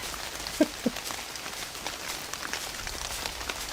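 Steady rain patters across the ground in a VR hunting game played on PSVR2, a soft, even hiss with scattered droplet ticks and a couple of faint thumps early on.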